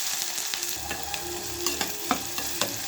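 Thinly sliced onions drop into hot oil with cumin and mustard seeds, crackling in a continuous close sizzle broken by sharp stirring clicks and pops.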